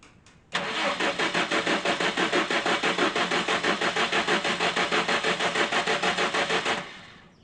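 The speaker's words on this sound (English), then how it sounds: "I'll turn the engine over a couple of times before actually starting it." A Lotus Excel engine cranks over steadily for several seconds to build oil pressure, a rapid rhythmic chugging from the starter that cuts off without the engine catching.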